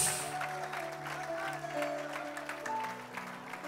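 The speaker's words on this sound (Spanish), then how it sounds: "denle fuerte el aplauso a Jesús." Church congregation clapping after a wedding ceremony in a Spanish-language service, soft and somewhat distant, blended with sustained music tones and a murmur of voices.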